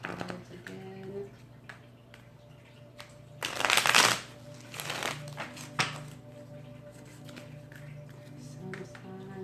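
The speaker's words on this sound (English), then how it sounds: "Now I'm gonna go ahead and shuffle my cards again." Tarot cards are shuffled by hand, soft papery riffles and taps building to a couple of louder crisp bursts, heard faintly over a quiet room hum.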